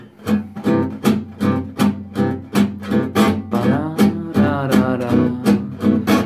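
A strummed B dominant seventh guitar chord, gypsy jazz style, rings out repeatedly, struck in a steady rhythm of roughly a dozen bright strums, close and clear with no talking.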